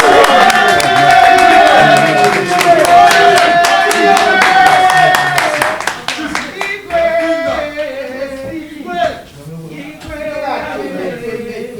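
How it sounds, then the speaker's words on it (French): An audience claps loudly with cheering and crowd noise under music, the dense clapping thinning after midway into scattered claps and murmuring voices. "Est-ce qu'on peut applaudir?"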